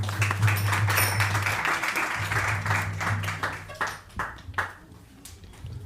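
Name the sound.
audience clapping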